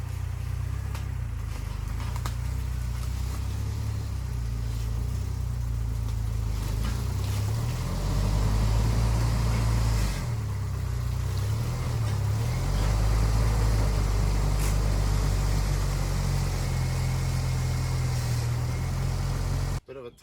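An RC crawler Jeep Wrangler climbs uphill with a continuous electric motor whine that rises and dips in pitch as it strains. It stays close and steady for about twenty seconds, then cuts off abruptly.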